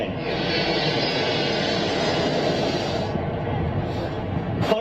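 A jet airliner passes over London Heathrow with a loud, continuous engine roar that holds steady and close throughout, easing slightly near the end.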